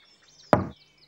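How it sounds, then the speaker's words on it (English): A single sharp knock lands on a door, loud and close, in a quiet room on a children's television show, with a brief voice starting right after. "Laa-Laa knocked on the door."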